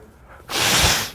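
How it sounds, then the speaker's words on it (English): A single forceful nose blow, a short burst of breathy, hissing air after a moment of quiet, close to the microphone. "I'm up here like blowing my nose"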